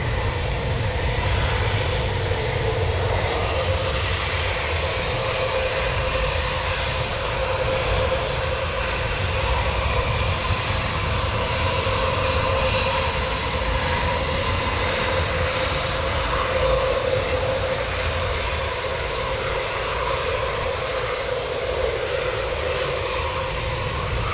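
Military aircraft engines run steadily at RAF Coningsby ahead of departure during a NATO exercise, a loud, continuous broadband roar with a sustained tonal whine, close and unbroken throughout.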